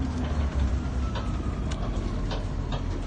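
Steady interior rumble of an MTA city bus in New York City while riding aboard, with continuous low engine and road noise and faint rattles, no talking.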